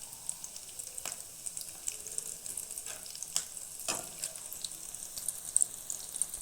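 Soya chunk nuggets frying in hot oil, a steady soft sizzle with scattered crackles and a few light clicks, close and quiet, no talking.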